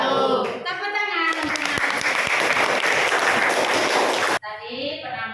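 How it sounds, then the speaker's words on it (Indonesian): Classroom students burst into applause after a presentation, a loud, dense patch of clapping lasting about three seconds, with voices talking just before and right after it. "Tepuk tangan."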